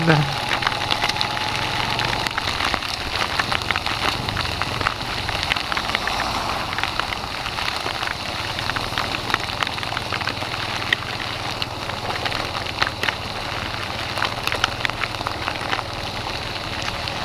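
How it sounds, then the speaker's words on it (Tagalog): Heavy rain falls steadily outdoors, a constant broad hiss with a low engine-like rumble beneath it throughout. "ang lakas ng ulan"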